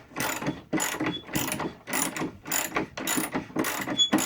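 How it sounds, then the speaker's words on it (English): A ratchet wrench turns a homemade leveling foot on a table, clicking in about eight quick, rhythmic bursts with short gaps between them, close and clear with no talk. "So if the table is unbalanced or on an uneven surface, I can use the wrench"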